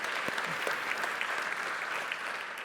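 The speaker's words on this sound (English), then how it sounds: "You can clap." A church congregation claps together in steady, dense applause, loud and close throughout with scattered sharper claps and a faint voice or two beneath it.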